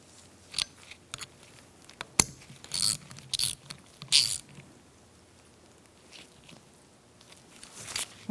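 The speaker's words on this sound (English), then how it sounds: "you can tighten those up with an 8mm socket" Tightening bolts with an 8mm socket ratchet on a 2002-2006 Honda CR-V rear upper control arm job, giving a run of short, close metallic clicks and scrapes in scattered bursts, with quiet gaps between them.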